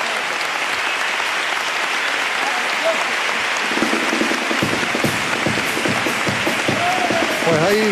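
A packed audience in Cádiz's Palacio de Congresos y Exposiciones applauds enthusiastically at a carnival awards show, a dense continuous roar of clapping with scattered cheers and whistles rising through it.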